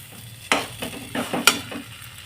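Semolina halwa with batasa is stirred and dried in a pan: a handful of distinct scraping strokes over a low sizzle.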